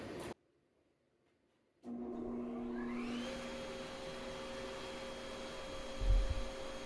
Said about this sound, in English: On the vacuum,